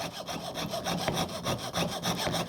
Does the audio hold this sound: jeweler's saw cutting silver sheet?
yes